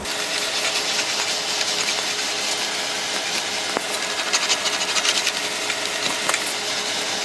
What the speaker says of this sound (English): I'll use the wheel to bend that over a little bit.